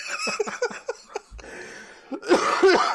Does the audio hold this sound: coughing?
yes